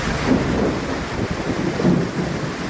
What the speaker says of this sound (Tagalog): Sinabayan ng kidlat at malakas na kulog ang malakas na buhos ng ulan sa Camarin North, Caloocan.